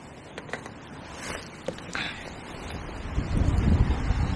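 Gusting wind at Coppice Lake, a fishing venue, buffets the microphone with a few faint knocks early on, then swells into a louder, low rumbling roar toward the end.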